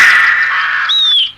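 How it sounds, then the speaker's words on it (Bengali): A crow's harsh, loud caw heard up close, one drawn-out call ending in a rising squawk, clear against a quiet dusk background. "কাকগুলো এত ডাকছে,"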